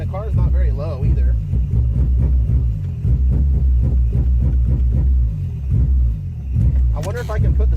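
A Honda Del Sol engine revs up and down in a steady pulsing rhythm, loud and close, with deep low rumble throughout and a voice talking briefly near the start and end.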